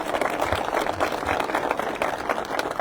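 A crowd at a political rally in the village of Aragats claps steadily, a dense, even patter of applause held at moderate loudness throughout.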